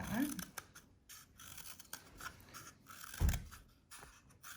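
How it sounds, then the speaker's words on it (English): Scissors snip through a stiff cardboard toilet paper roll in several short, close cuts separated by brief pauses, quiet overall. "I'm gonna cut all the way around my flower petal, or all the way around my toilet paper roll"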